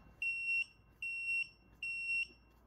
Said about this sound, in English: once I turn on the VESC from the side, you're going to hear a couple of beeps